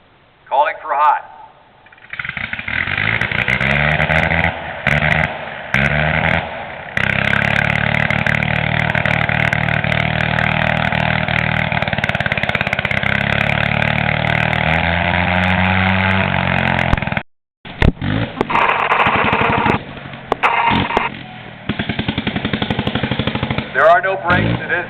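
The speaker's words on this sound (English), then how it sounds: "you could hear Brian operating the throttle to control the speed of the engine" A vintage aircraft's rotary engine runs at an air show jamboree in Rhinebeck, a loud buzzing drone that rises and falls as the throttle changes speed and cuts out briefly near the end, while a narrator talks over it.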